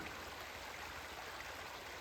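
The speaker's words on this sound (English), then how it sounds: "Over there, there's some water running" A frozen-over creek in Canadian beaver country has water running somewhere in it, making a soft, steady hiss and trickle that stays faint and constant throughout.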